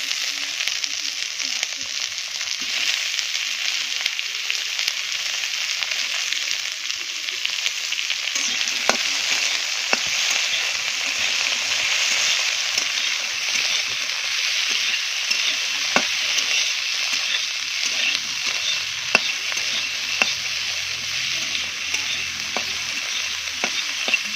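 Chopped green chilies and tomatoes frying for Maggi noodles, a steady bright sizzle in hot oil with occasional clicks of stirring and utensil taps against the pan, continuous and close.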